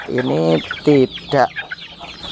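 Healthy chickens about two and a half months old cluck loudly and close up inside a box, giving three distinct harmonic calls with softer rustling between them, while someone speaks briefly.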